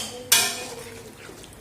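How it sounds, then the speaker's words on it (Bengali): A metal utensil clinks sharply against a pot as rohu fish and pointed gourd cook, followed by a soft sizzling simmer and a second brief clink, close by with no talk. "রুই মাছ দিয়ে পটল রান্না করতেছি।"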